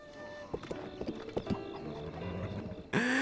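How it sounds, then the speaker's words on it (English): Hooves clip-clop in a quick uneven run on a huge horse from a Zelda video game, Ganon's horse, with a brief loud neigh bursting in at the end. "I caught Ganon's horse, right? It's ridiculously huge."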